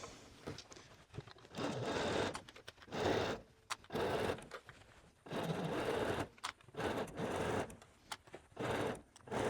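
A sewing machine stitches a hoodie seam in several whirring bursts of a few seconds each, separated by short pauses, heard close and fairly quiet.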